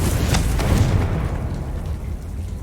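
A Confringo blasting spell explodes in the Hogwarts Legacy video game, a loud low boom with a rumbling tail that fades over a couple of seconds.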